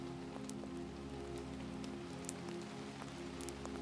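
Steady rain falls throughout, a dense continuous patter with a few brighter drops ticking through, heard alone at an even, moderate level with no voices.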